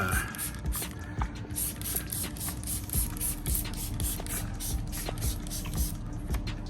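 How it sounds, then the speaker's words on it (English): Repeated short bursts of waterless car wash cleaner spray hiss from a spray bottle in a quick, steady rhythm, close by, with faint mechanical clicks underneath. "Let me spray up here."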